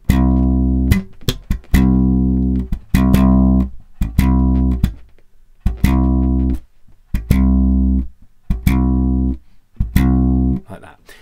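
Deep, punchy slap bass guitar notes play in a repeating funky pattern, with short muted plucks and slaps between the sustained notes.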